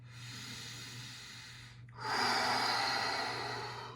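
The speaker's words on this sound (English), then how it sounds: "deep breath in, deeper breath out" Deep yoga breaths during a mountain yin class: a long, hissy inhale gives way to a louder, rushing exhale close to the microphone, with a short pause between them and no talking.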